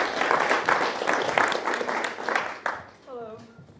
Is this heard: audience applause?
yes